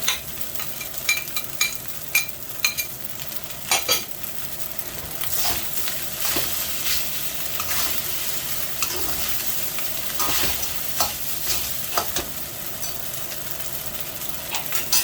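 Shrimp stir-fried with fried rice in a Chinese wok, a steady sizzle with repeated scraping and clattering strokes of the spatula against the metal, close and continuous throughout.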